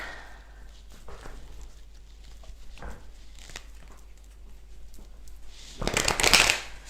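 Tarot cards being shuffled by hand, with faint rustling early on and then a louder, rapid riffling burst near the end, close and crisp, with no talking over it.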